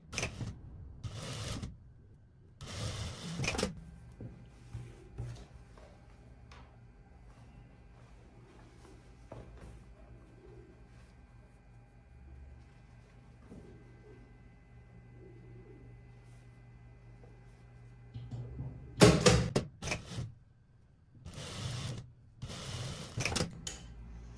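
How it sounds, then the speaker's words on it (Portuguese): A sewing machine stitches the side seams of a dress in a long, steady, quiet mechanical whir, with someone talking before and after it. "agora a gente vai costurar aqui, ó, laterais, tá? Fechar aqui as laterais."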